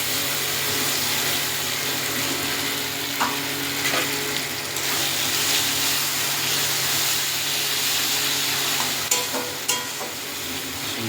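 Ginger paste, garlic paste and chilli frying in a pan with tomato and onion during chicken curry cooking: a steady, close sizzle with stirring scrapes and a few sharp clinks near the end, no talk.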